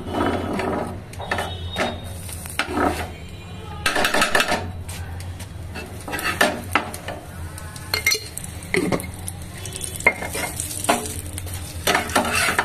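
Paratha frying in ghee in a pan gives off a steady sizzle, with intermittent scraping, clinking of a spatula against the pan and brief bursts of stirring, all close and without talk.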